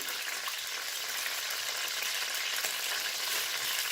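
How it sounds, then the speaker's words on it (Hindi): Water added to a pot of zarda, the sweet Mughlai rice dish, where it sizzles and hisses steadily and close up for about four seconds with a faint stirring texture, no voices. "अब यहाँ इस स्टेज पे मैं आधा कप पानी का ऐड करूँगी"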